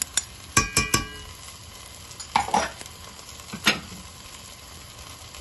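Onion, potato and carrot sizzle in a pot with tomato and pepper paste for lentil soup, with a steady frying hiss under several sharp spoon clinks and scrapes from stirring.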